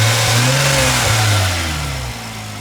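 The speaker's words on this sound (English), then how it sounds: "The engine runs absolutely sweet as a nut." A 1995 Jaguar Sovereign's 3.2-litre straight-six, fitted for petrol and LPG, runs smoothly and loudly up close, with a steady low hum, a couple of brief rises in pitch, and a slight drop in level near the end.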